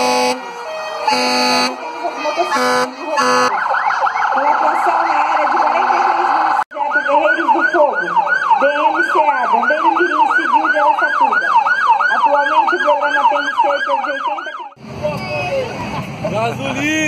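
A loud wailing police patrol car siren cycles up and down repeatedly with horn blasts, nearby and dominant, while voices talk over it, at a 7 September parade in Araçatuba, Brazil.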